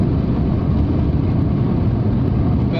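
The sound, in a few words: Rover 45 V6 engine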